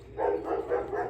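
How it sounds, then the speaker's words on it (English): Dogs barking indoors, a few muffled, mid-pitched woofs in quick succession, moderately close and heard alone. "Sorry about my dogs."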